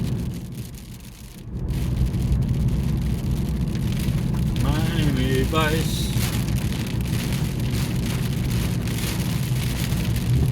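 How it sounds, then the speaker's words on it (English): Steady rain drums on a vehicle while driving through a Southeast Alabama thunderstorm, a dense continuous wash after a brief dip, with someone speaking and music playing over it. "Going right into the rain."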